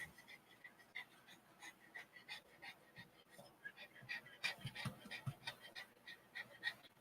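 A dog panting nearby, quick rhythmic breaths that are faint at first and grow stronger and denser toward the end, with no talking.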